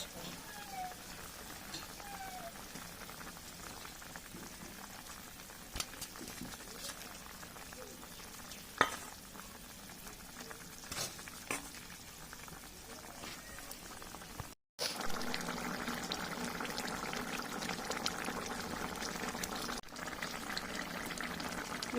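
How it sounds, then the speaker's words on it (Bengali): Curry gravy bubbles in a pot as pieces of rohu fish go in, a soft steady simmer and sizzle that grows louder and busier partway through, with a brief clatter of cookware. "ঝোলটা ফুটে গেছে এবার দিয়ে দিচ্ছে মাছ"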